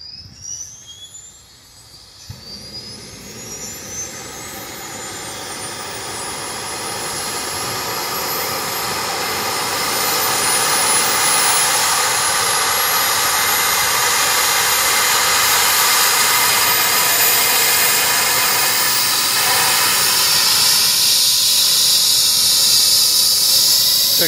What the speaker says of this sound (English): See the helicopter taking off from Forest Hill Ornaments Park.